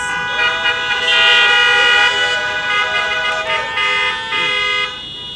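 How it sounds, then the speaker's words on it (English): Several car horns honk in overlapping sustained toots at an outdoor freshman welcome event, loud and close, with blasts layering and changing pitch before one cuts off near the end. "show me some great Seagull love by honking your horns so that I know that you're out there"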